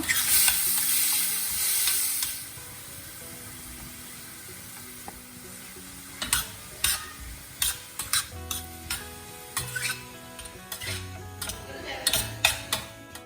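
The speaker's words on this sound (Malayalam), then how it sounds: "ഇനി ഇതിലേക്ക് പടവലങ്ങയും അതുപോലെ തന്നെ ഒതുക്കിയെടുത്ത തേങ്ങയും കൂടെ ചേർത്ത് നന്നായിട്ടൊന്ന് മിക്സ് ചെയ്തെടുക്കുക" Ridge gourd and grated coconut for thoran are stirred in a pan with a soft frying hiss, then a run of repeated spoon scrapes and knocks against the pan follows in an uneven rhythm.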